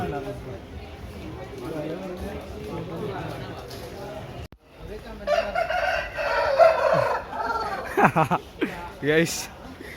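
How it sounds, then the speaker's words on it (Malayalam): Chickens cluck and a rooster crows amid people talking and laughing as the birds are moved, with bursts of squawking and flapping in the second half. "കോഴിക്കളെ ഷിഫ്റ്റ് ചെയ്തോണ്ടിരിക്കാണ്"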